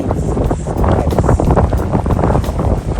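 Strong gusts at Ghost Lake in Cochrane roar and buffet right against the microphone, loud and continuous with surging peaks, water-like rushing beneath and no clear talk.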